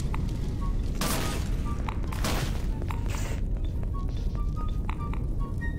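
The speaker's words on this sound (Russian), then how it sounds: "А это я уже взорвал." Explosion in Garry's Mod, a couple of broad booming bursts rising out of a constant loud game backdrop with scattered clanks and effects, close and heavy.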